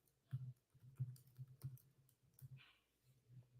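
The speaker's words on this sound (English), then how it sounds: "Typing that right now." Faint keystrokes tap on a computer keyboard, a quiet uneven run of soft clicks with short pauses between bursts and no voices.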